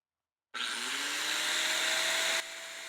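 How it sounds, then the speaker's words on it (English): An angle grinder cuts into a steel air compressor tank. After half a second of silence, a loud, steady, high whining hiss starts abruptly and continues close up, then eases slightly in level near the end. "the grinder's at a really weird angle here, and I can't quite figure out how to get it cut from here"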